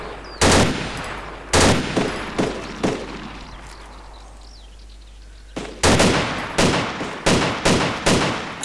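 Gunfire in the survival video game DayZ: loud, sharp shots ring out close by, a few spaced single cracks followed by a rapid cluster of repeated bursts, each with a short echoing tail.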